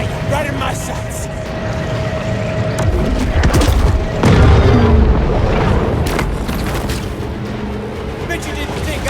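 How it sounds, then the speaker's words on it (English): A torpedo explosion in the underwater shark game Maneater: a deep, heavy boom swells up midway through a loud, busy mix of rumbling game effects and water noise. "Torpedo!"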